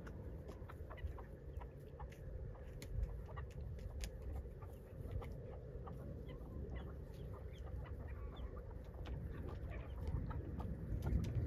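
Free-range chickens cluck softly and intermittently on a rural farm, faint and scattered over a steady low outdoor rumble, with no talking.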